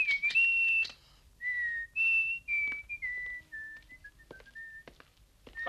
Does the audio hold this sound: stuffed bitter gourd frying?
no